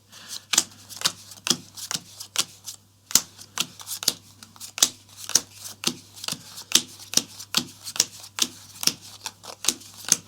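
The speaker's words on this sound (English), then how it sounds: "these get shuffled into your deck" A board game deck of cards is shuffled by hand, with a brisk, regular series of sharp riffling snaps repeating about twice a second, close and clear over a low steady hum.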